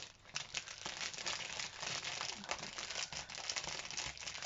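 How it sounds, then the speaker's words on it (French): Paper from a patterned scrapbooking pad is torn and crumpled up close, giving a steady, dense crinkling and rustling with short ripping bursts and no talking. "c'est pas grave si je déchire le papier"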